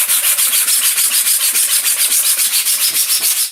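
Rapid, steady back-and-forth sanding strokes rub abrasive across a black 3D-printed part, a close, loud scratchy rasp repeating about eight times a second without a break.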